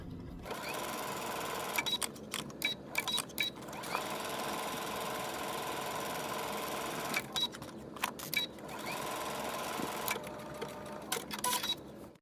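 A sewing machine runs in bursts while back stitching from a marked dot on a skirt, its steady mechanical whir broken by short pauses and quick stitch clatter. Heard close, with no talking.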